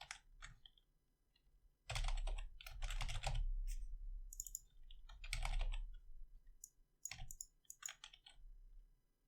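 Typing on a computer keyboard in bursts of rapid clicks, separated by short pauses, close and fairly loud with no voices.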